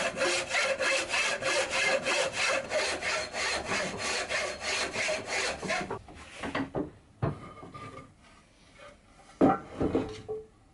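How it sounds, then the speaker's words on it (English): A hand saw cuts through wood for cabriole chair legs, first a panel saw and then a turning saw working around curves. The strokes are rapid and steady for about six seconds, then stop, leaving a few scattered knocks and scrapes. "I sawed out as much as possible with a panel saw and switched to a turning saw to get around the bends."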